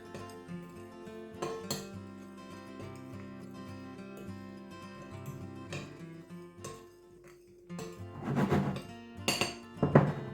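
Marinated squid seasoned with salt and pepper is stirred in a bowl, giving soft utensil clinks and scrapes over faint background music, building into a cluster of louder, quicker knocks near the end.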